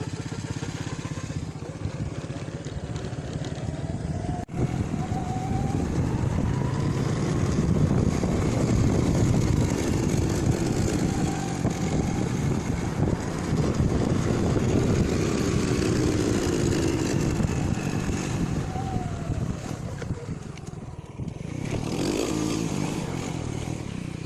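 An old legendary motorcycle ridden along a rural road makes a continuous engine drone with fluctuating revs and rattling, close and fairly loud, with wind noise over it.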